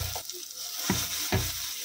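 Ground gongura chutney hitting a hot tempering with dried red chillies in a pan, a steady close sizzle broken by a few soft stirring scrapes, with no voices.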